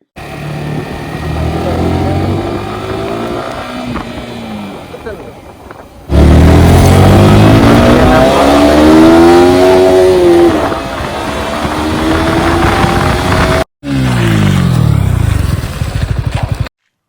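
A 2024 Yamaha R15 V4 2.0 motorcycle engine starts and idles, then revs up loud and close in rising and falling sweeps, cutting out briefly before revving again.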